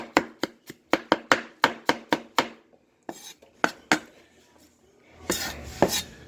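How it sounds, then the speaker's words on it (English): Fresh parsley is rough-chopped with a knife on a cutting board in a quick run of sharp, evenly spaced taps, then a pause, a few slower chops, and a brief scraping gather at the end. "Gather it up, give it a rough chop."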